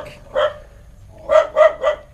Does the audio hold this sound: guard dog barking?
yes